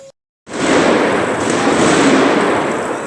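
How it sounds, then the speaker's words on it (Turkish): In Nusaybin, Turkey, after a brief silence, a loud burst erupts into a sustained, crackling roar of explosions and gunfire, dense and continuous until the end. "şiddetli patlama ve e, silah sesleri gelmeye devam ediyor"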